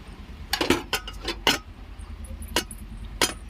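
Dishes and pots being washed, with scattered clinks and clatters of metal and utensils knocking together in a few sharp bursts, close by with no talk.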